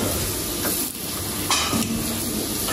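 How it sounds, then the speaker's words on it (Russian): Onion and tomato fry in a pan, a continuous close sizzle broken by a few scraping stirs of a utensil, with no voices. "параллельно у нас варится, жарится, томится лук с томатом"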